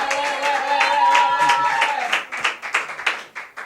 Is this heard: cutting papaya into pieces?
no